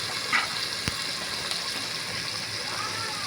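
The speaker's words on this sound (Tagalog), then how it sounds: "Tapos lalagyan na po natin siya ng tubig." Water gushes steadily into a cooking pot of sinigang with crushed tomatoes, a soft continuous pour heard close up with a brief clink partway through.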